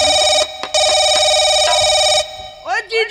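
A loud electronic phone ring sounds in two long bursts with a brief gap, followed by a short stretch of voices.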